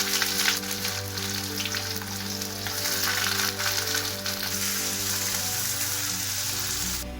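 Chopped onion fries in hot oil in a kadai with whole garam masala and dried red chillies for dahi chicken, giving a steady, loud, close sizzle throughout.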